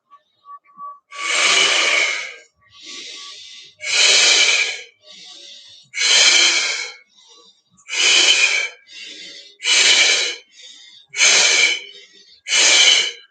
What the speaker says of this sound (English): inhale up, exhale down with strength